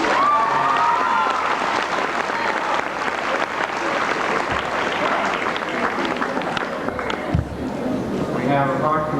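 An audience at a 1988 high school academic awards ceremony claps steadily and loudly throughout, a dense crowd applause with voices also present.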